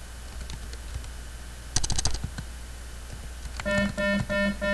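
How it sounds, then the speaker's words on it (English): Soft, scattered keyboard clicks with a brief flurry of faster keystrokes, over a steady low hum and a repeating electronic tone near the end. "Again, sorry for the typing"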